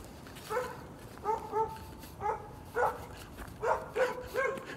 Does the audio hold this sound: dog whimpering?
yes